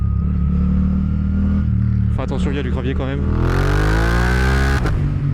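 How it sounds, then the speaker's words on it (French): A Suzuki GSX-8R twin-cylinder motorcycle accelerates hard through a corner, engine note climbing steadily after a gear change, loud and close beneath a rider speaking over the wind. "Quand je vous dis qu'on peut accélérer sur l'angle, ça c'est cool."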